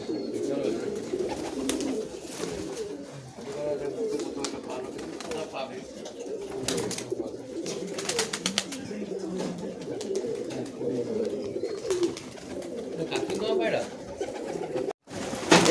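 A flock of giribaz pigeons coos in a continuous overlapping chorus while they are fed, the throaty murmur close and steady, with faint background activity.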